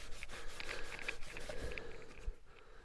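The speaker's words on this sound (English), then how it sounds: "rub in with a soft cloth, then polish and buff to a high luster" A soft cloth rubs polish across the bodywork of a Mazda MX-5 under restoration, making a close, continuous scrubbing swish with small uneven strokes.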